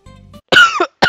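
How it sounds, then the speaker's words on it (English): A single harsh cough close to the mic, preceded by a faint low hum and followed by a short second burst. "That cough helped me, I guess."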